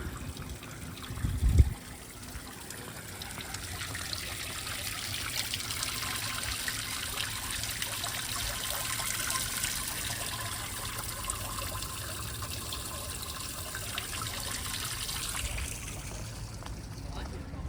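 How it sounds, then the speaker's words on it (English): Steady, gentle trickle of running water from a small garden water feature in Cambridge, fairly close, with a brief louder knock near the start and faint background murmur throughout. "Little water feature there, look at that."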